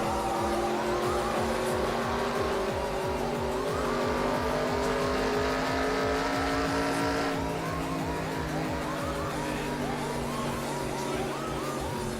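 A NASCAR race car in a video game, engine droning steadily while the tires squeal in repeated rhythmic bursts, loud and close throughout.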